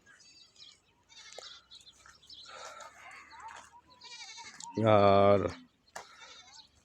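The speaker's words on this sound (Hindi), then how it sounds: "बकरी आपरी बथान में आ चुके हैं।" Goats bleating in their pen, several wavering calls with one loud, close bleat standing out, mixed with softer bleats and brief talking nearby.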